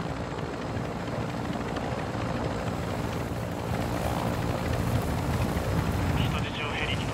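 A helicopter in Call of Duty DMZ makes a loud, continuous rotor roar that fills the whole stretch without let-up, with voices talking underneath.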